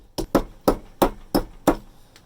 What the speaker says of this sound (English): The motion you want is sort of a gentle tapping motion, but with a bit of force behind it.